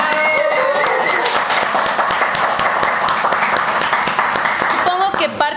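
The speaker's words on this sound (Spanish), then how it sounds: "Un aplauso para todos" A short round of applause at an interview show, with sparse clapping taps running under a voice that keeps talking over it.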